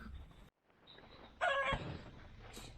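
Chickens cluck and squawk at a distance, with a louder burst of fowl calls in the middle and quiet farmyard background.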